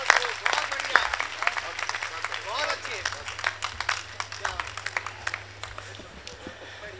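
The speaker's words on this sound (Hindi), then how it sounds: "जोरदार तालियों से" Vigorous audience clapping at a Hindi poetry gathering, many hands applauding loudly at first, then tapering into scattered claps, with a faint steady hum beneath.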